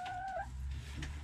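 A backyard chicken gives a short, quiet clucking call with a brief rising-and-falling note, then soft low rustling, with no talk over it.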